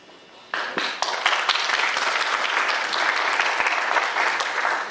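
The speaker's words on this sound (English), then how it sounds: "I've been advised to ask the audience to hold their applause" Audience applause erupts at a 2008 Canadian federal election candidates debate, a dense, loud, sustained clapping that rises suddenly and holds steady.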